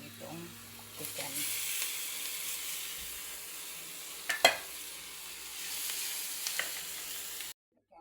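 Chicken pieces added to browned onions sizzle and fry in a pan with a steady hiss, broken by a couple of sharp clinks of stirring near the middle before the sound cuts off.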